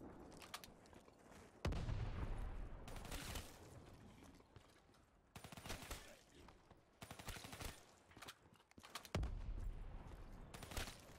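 Gunfire from the Haymaker weapon in the zombie mode of the video game Black Ops 3, sounding as repeated loud bursts of shots separated by quieter gaps, with spoken voices heard between and around them.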